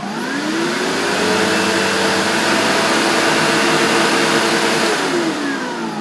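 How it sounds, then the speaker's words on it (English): A Sebo Automatic X4 Pet upright vacuum cleaner runs with boost engaged, spinning up into a loud, steady motor whine with a rising pitch at the start and a slight drop near the end, close and alone. "So if I turn the machine on and activate the boost,"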